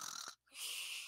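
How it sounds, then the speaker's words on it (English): A cartoon character, Patrick, snores in a faint, short cycle: a raspy drawn-in breath, a brief pause, then a long airy exhale. "Squidward doesn't like snoring, so he's pulling Patrick to Patrick's house."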